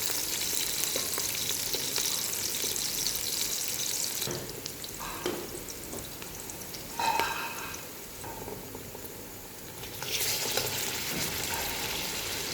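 Onions and beef frying in hot oil for kabuli pulao, a continuous close sizzle with stirring scrapes, dropping quieter for a few seconds mid-way before the loud hiss returns.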